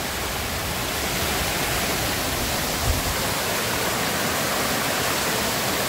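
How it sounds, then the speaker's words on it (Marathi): A small waterfall on the Nageshwar trek near Chiplun, Ratnagiri, swollen after rain, pours in a dense, unbroken roar, loud and close, with no pauses. "त्या ठिकाणी हा छोटासा वॉटरफॉल आहे."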